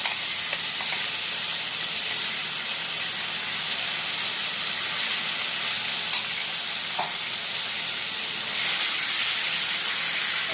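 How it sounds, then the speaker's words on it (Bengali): Onion paste frying in oil for Bengali katla fish kalia, a continuous loud sizzle and hiss from the pan with soft stirring, no voices. "পেঁয়াজ বাটাটা ভালো করে কষিয়ে নিতে হবে।"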